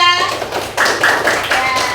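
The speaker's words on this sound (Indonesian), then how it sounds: "Tepuk tangan untuk kelompok 2." Classroom applause for a student group that has presented, a burst of many hands clapping after brief speech at the start, continuing loud and close to the end.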